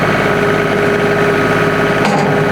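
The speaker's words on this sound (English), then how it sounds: "We'll rev up the RPMs a little bit" A compact tractor engine runs close and loud with a steady, rumbling mechanical drone and slight vibration. The throttle is raised to a higher RPM.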